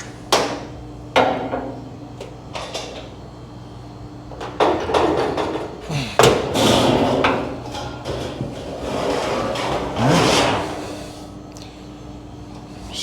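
Sheet metal being rolled over and bent in a brake while forming a 2-inch return on a base plenum, with several loud metallic clanks and thuds and a few sliding, scraping passes, no talk.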